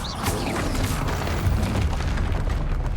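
Loud, dense magical blast in Hogwarts Legacy from a Bombarda spell: a continuous booming, crackling explosion that fills the whole few seconds, close and powerful, with no voice.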